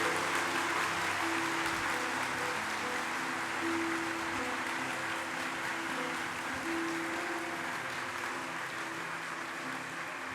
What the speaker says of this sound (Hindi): तालियों के नाद से स्वागत किया जाए बागेश्वर धाम का।